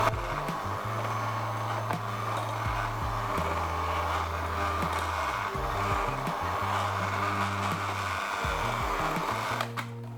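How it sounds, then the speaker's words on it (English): An electric hand mixer hums steadily on a low setting while beating strawberry streusel muffin batter, its whine holding at a constant pitch with small shifts in motor tone throughout, close and alone with no talking. "you want to keep your mixer on low and start adding in the kefir or the buttermilk."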